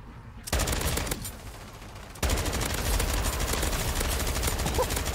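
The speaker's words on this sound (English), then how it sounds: "That was a big explosion." Explosion and rapid automatic gunfire in MW3 Zombies, a dense continuous barrage that drops briefly and then resumes louder and sustained.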